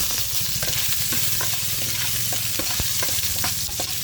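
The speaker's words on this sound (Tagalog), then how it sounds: "Unahin ko muna yung luya para magkatas" Ginger sizzles loudly in smoking-hot oil in a pan ready for garlic and onion, a dense continuous crackle with scattered sharp pops and scraping stirs, close and with no voices.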